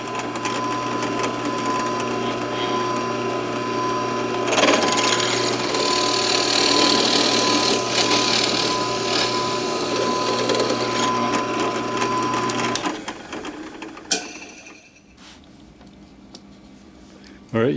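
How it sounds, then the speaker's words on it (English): A power drill whirs steadily for about thirteen seconds, rising in pitch as it bites, then stops, followed by a few clicks and handling noises. "use that as a template to drill the hole, same size drill bit, down through the wood on both sides"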